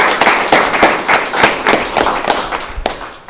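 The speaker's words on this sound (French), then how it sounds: "on va vous applaudir bien fort pendant que le calcul se fait" Audience members at a school quiz competition clap for the teams, a loud, close patter of applause with distinct individual claps and thumps that continues steadily and thins out toward the end.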